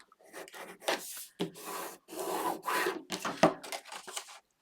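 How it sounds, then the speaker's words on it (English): Repeated firm rubbing strokes as a folded paper edge is burnished for a scrapbook mini album, close and dry, coming in short uneven scraping bursts with brief pauses and no talk. "then we're going to fold and burnish"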